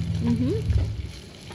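An egg sizzles and crackles steadily in a hot pan, close by, with a brief scrape of a utensil.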